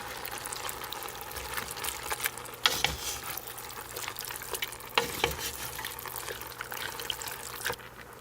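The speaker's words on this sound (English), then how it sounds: "give it a quick stir." A chickpea and lentil stew is stirred in a pot, with soft wet sloshing and a few sharper knocks of the spoon over a low bubbling simmer, quiet and close.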